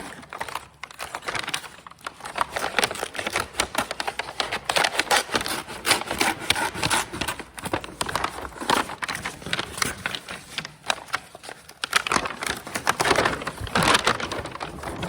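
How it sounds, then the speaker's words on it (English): A paper bag having its bottom cut off during a craft activity gives repeated crinkling, rustling and cutting sounds in irregular bursts, close up, with no talking over them. "You're going to cut the bottom off the bag."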